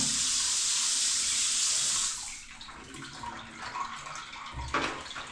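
A tap in Nairobi gushes loudly for about two seconds, then drops to a softer, uneven flow of running water nearby.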